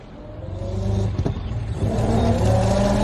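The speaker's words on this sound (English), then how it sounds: "Why don't we go for a spin in the car" A car revs and pulls away, its engine rumble rising steadily and staying close and loud throughout, with no voices over it.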